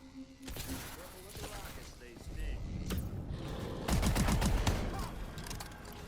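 Rockets fire in a Call of Duty Zombies match, a rapid, dense volley of booming blasts and crackling bursts building over several seconds, with game voices heard faintly underneath.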